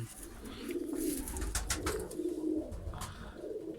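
Pigeons coo in a breeding loft, with repeated low, throaty coos close by and some faint rustling and chirps around them.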